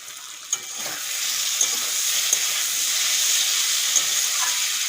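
Potatoes and spices sauté in a pan with a steady, bright sizzle and hiss that grows slightly louder, broken by occasional scraping clicks of a spatula stirring, and no voices.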